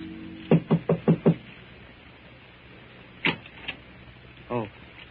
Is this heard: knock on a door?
yes